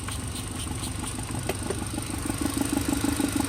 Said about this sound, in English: you could hear the delay in secondary air shutting off, or at least the combi valve closing